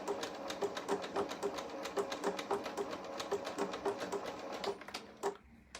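A sewing machine stitches appliqué onto fabric in a fast, even run of mechanical clatter. It is close and steady, set to a 2.0 width and 2.5 length stitch, and stops near the end.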